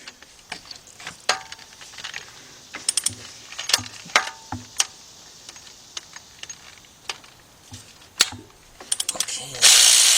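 A ratchet removes the two 10mm timing chain tensioner bolts on a GM engine, giving repeated bursts of sharp clicking with pauses between them, close up and without talk.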